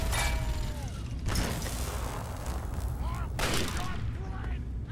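Pulse grenades go off in Fallout 3 as two bursts of crackling, buzzing electrical discharge a couple of seconds apart, over a steady game ambience.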